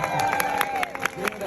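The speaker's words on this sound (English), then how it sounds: "Everybody clap for this kid." A street performance audience at Covent Garden, London, claps for a child, with scattered, fairly quick claps amid general crowd noise and background voices.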